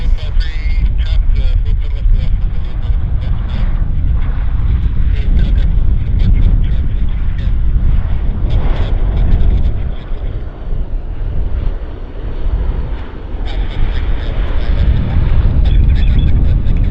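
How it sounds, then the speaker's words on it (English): Turboprop airliner landing at Vancouver Airport with its propellers shifting into reverse pitch, a loud, rough roar that swells and dips, heard under someone talking throughout. "It's very obvious when the propellers go into reverse pitch, isn't it?"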